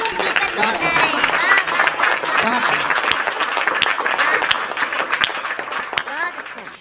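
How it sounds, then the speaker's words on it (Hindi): Audience at a Hindi poetry and song gathering claps along in rhythm with a patriotic song, dense steady clapping running throughout alongside the singing, fairly loud and close. "एक बार रिदम के साथ तालियां बजा दीजिए।"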